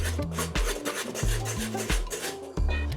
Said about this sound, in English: Parm goes in, stir it up, whisk it in real nice.